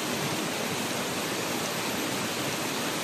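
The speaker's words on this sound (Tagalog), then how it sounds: "Dito tayo ngayon sa gilid ng sapa, no? Ilog." Water of a creek or river flows steadily as a dense, continuous broadband rush, close by and alone, with no voices over it.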